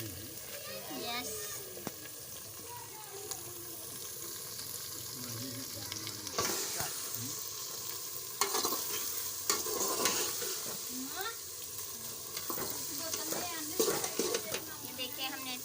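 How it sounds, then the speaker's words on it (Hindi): Okra (bhindi) sizzles steadily as it fries in a pan, with repeated stirring scrapes and clinks over the hiss and occasional voices nearby. "ये हमने 2-3 मिनट तक भून लिया है"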